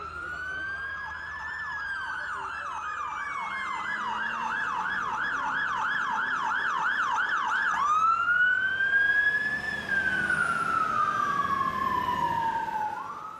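Ambulance sirens sound loud and continuous, first as a rapid repeating wail and then shifting into a slow rising and falling tone, with road traffic rumbling underneath and no speech.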